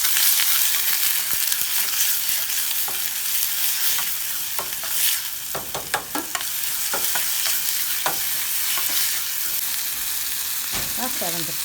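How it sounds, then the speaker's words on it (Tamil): Onion and tomato sizzle in a hot pan with whole spices for prawn thokku, a steady crackling fry broken by repeated scraping strokes of a spoon stirring, close and alone. "வெங்காயம் தக்காளி போட்டு நல்லா தாளிக்கணும்."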